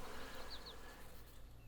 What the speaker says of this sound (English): So here's the swarm. This is a lot of bees.